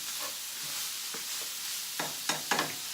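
Onions sizzle quietly in a pan while a utensil stirs them, with a faint constant hiss broken by a few soft scraping strokes near the end.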